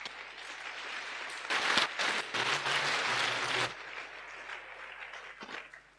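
A church congregation at a diaconate ordination in Accra applauds itself, a burst of clapping from the crowd that swells for about two seconds and then fades back into room murmur.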